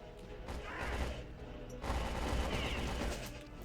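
Rapid gunfire from a non-pistol weapon in Return to Castle Wolfenstein: Tides of War, in sustained rattling bursts over a dense, noisy game soundscape.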